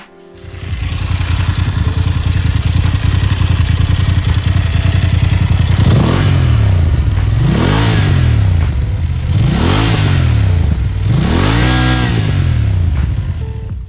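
A BMW F 850 GS motorcycle with an Akrapovic exhaust idles loudly, then revs up sharply four times in a steady rhythm, each throttle blip rising and falling close by, with no talking.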